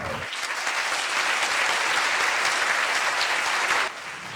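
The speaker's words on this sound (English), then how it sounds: "let's have an Earthkeeper round of applause" An audience at a talk applauds with dense, steady clapping for about four seconds, then trails off into a softer tail.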